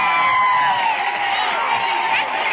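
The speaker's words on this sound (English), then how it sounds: "Now listen to this cheering." A huge crowd in Washington roars and cheers for Charles Lindbergh in a 1927 broadcast, a dense continuous wall of voices and whoops heard at a distance with a thin, old-recording quality.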